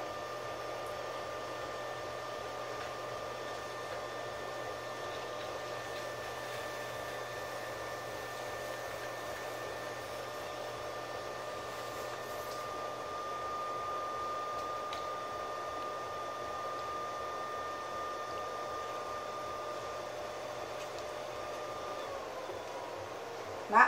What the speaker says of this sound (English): Might would help if I slow the wheel down.